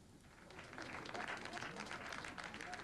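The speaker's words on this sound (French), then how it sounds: "on va voir à la toute fin Sophie Quinton applaudir" Faint applause in a French short-film scene, a soft patter of clapping that swells after the first second and continues steadily, with some low background noise.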